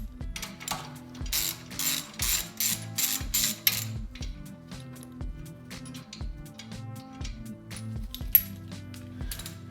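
A wrench ratchets as 22mm nuts are loosened and removed on an electric hydraulic log splitter, with rapid clicking bursts, metallic clinks and a low mechanical hum running underneath throughout.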